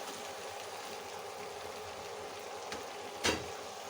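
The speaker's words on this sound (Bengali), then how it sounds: "এখন দিয়ে দেবো ভেজে রাখা বেগুন।" Spicy masala sizzles quietly and steadily in a pan as fried eggplant goes in, with a brief clatter near the end.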